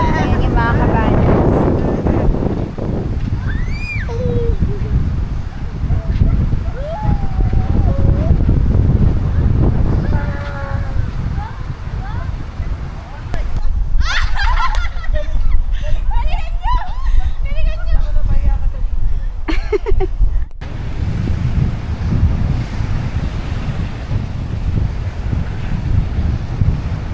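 Strong northeast monsoon wind gusts across the microphone by the sea at a beach resort in Quezon Province, a loud continuous roar with surf in the background and a person talking through much of it.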